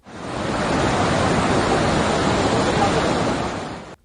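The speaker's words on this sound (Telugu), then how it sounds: "నదులు ఉధృతంగా ప్రవహిస్తున్నాయి." Rivers swollen by heavy monsoon rain rushing in flood in Himachal Pradesh, a dense, steady roar of churning water that stays loud and continuous throughout, with no voices.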